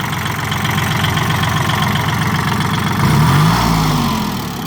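A used 40-horsepower tractor engine idles steadily up close, a constant low rumble with a slight swell in loudness near the end; no talking.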